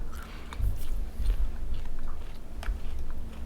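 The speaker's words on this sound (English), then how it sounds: "let me finish chewing this first" Close chewing of a slim dried sausage snack, like a Slim Jim, in France: wet bites and crunchy mastication repeat in an irregular rhythm, near and fairly loud with no talking.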